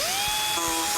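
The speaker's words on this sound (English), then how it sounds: "I'm actually using an angle grinder and a 36 grit cutoff wheel to trim the opening." An angle grinder fitted with a 36-grit cutoff wheel trims an opening in a Mazda B2500 truck body. It gives one steady, loud high-pitched whine close to the listener, with a second tone entering partway through, and nobody speaks.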